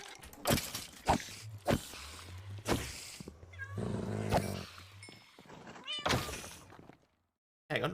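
A cat in Minecraft meowing repeatedly, five or six distinct close meows at irregular intervals, alongside game sounds and brief footsteps, then silence near the end.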